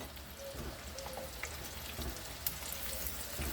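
Mozzarella sticks frying in a pan, a steady soft sizzle with faint crackles and pops running throughout at low volume.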